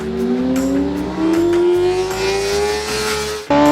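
MV Agusta F4 RR superbike engine howling at high revs, a loud rising whine that climbs steadily as it accelerates, then a brief gear-change dip.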